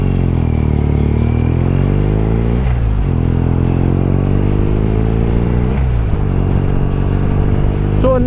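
A BMW R nineT motorcycle on a daily commute, its engine droning loud and close with two rising rev sweeps as it accelerates through the gears, plus light clatter and wind.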